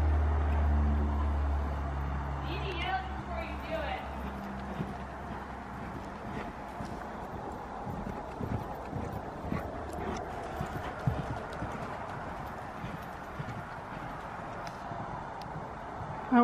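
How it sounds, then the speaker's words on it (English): A gaited horse cantering along a sandy trail, steady rhythmic hoofbeats under wind rumble, close by, continuing through the whole stretch with no talk. "This is a nice canter, we're gonna keep it."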